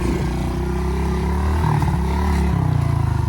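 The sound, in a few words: pit bike engine, small throttle blips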